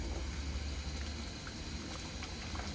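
Luchi frying in a mix of soybean and mustard oil, a constant close bubbling and sizzling hiss with occasional small pops, steady and fairly quiet.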